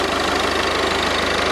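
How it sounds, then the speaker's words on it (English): Citroen DS3 1.6 diesel E-HDI engine idling with its failed turbocharger spinning, a steady, dense diesel clatter with fine rhythmic knocking, close and loud, no talk. "So that's the turbo in there spinning around utterly."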